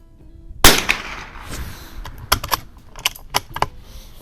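Sharp, dry reports from a 1994 Remington 541-T bolt-action .22 LR rifle fitted with a Weaver T-10 scope at a shooting range, one loud crack followed by a quick string of lighter snaps.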